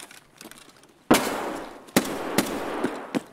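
Grenade blasts and sharp bursts of gunfire crack close by in the video game Escape from Tarkov, with loud, separate impacts spread over a few seconds and rumbling noise between them.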